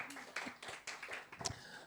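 A church congregation at a GPdI worship service claps in a brief, uneven burst, a handful of distinct claps and taps close by, fairly soft and over in about two seconds.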